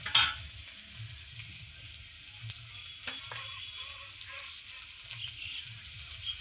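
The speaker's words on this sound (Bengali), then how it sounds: "আমি কচুর লতিটা খুব সুন্দর লাল লাল করে ভেজে নিয়েছি।" Taro stolons (kochur loti) fry in a pan, a quiet steady sizzle close by with a few faint stirring clinks, no voices.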